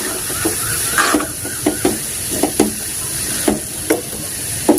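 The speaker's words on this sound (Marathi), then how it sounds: "भाजी छान अशी परतून घेऊ" Drumstick leaves are sautéed in a pan: a steady hiss of frying is broken by about a dozen regular spatula scrapes and taps, close and loud, with no voices.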